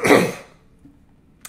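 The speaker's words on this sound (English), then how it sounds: "Sorry, I keep clearing my throat." A single harsh throat-clearing burst up close, fading within half a second, followed by near silence and a faint click at the end.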